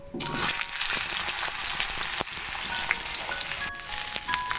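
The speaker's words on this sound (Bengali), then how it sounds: "আমলকিগুলো একটু হালকা করে ভেজে নিচ্ছি" Indian gooseberries (amla) with asafoetida sizzle steadily in hot oil in a pan for a homemade pickle, a continuous close crackling hiss with occasional sharper pops and spatula taps.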